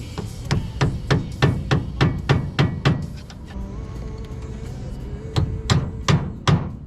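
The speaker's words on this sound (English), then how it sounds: "I'm trying to hammer this washer back" Sharp metal hammer blows on a washer fitted to an E36 steering rack, first a quick steady run of about ten strikes, a pause, then four more spaced hits, close and ringing with no talk.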